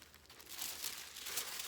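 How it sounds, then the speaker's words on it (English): Bubble wrap crinkles and rustles softly as it is pushed into a box, a faint, continuous crackling texture up close with no talking. "I'm going to put some bubble wrap in that box"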